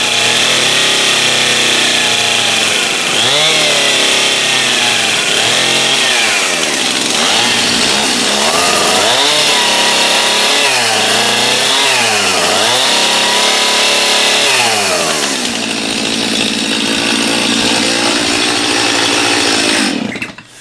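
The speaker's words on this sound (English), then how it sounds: "Use the chainsaw." A chainsaw cuts through a wooden barn beam for a mantle, roaring loud and steady at close range for about fifteen seconds with the engine pitch dipping as it bites, then idling before cutting off at the end.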